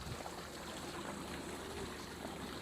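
Water pouring down a newly built waterfall, a faint, steady rushing flow heard from some distance with no talking over it.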